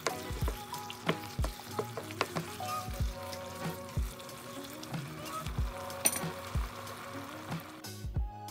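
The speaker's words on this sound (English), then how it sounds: "Add mushrooms and cornstarch mixture. Cook for another 2 minutes." Mushrooms and a cornstarch mixture cook in a pan with steady soft sizzling, punctuated by repeated knocks and clinks of a utensil stirring against the pan.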